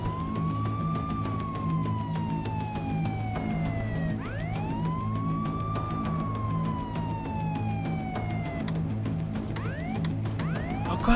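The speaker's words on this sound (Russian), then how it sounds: "Включить сирену." Police siren in the video game Contraband Police wails in slow rising and falling sweeps over a steady engine drone, loud and continuous with some short whoops near the end.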